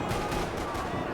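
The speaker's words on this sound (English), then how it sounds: "Another parking lot rattling with gunfire." Dense, continuous gunfire in Max Payne 3 rattling across a parking lot, a steady wash of rapid shots with no clear gaps between bursts, loud and close, with faint voices mixed beneath.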